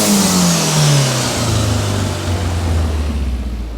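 A turbocharged 2006 Honda S2000 with a swapped K24 engine revs loudly and close, its pitch sliding steadily downward as it winds off, with airy rushing noise throughout and no talking.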